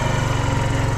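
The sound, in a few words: motorcycle engine starting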